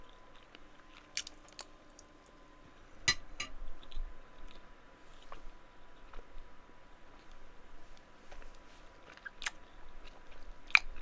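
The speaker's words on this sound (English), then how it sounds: "I'm going to be eating as well because I have food to finish" A person munching dry food that was left out too long, with soft intermittent crunches and clicks coming close up over a faint steady background hum, and no talking.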